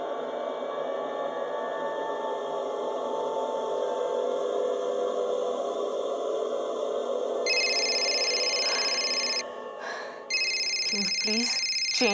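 A bright electronic phone ringtone starts partway through, plays loudly with a brief break, over a sustained droning tone and some breathy sounds.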